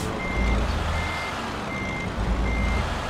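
Steady electronic truck reversing beeps in Euro Truck Simulator 2 repeat at an even pace over a low rumbling engine drone, loud and close.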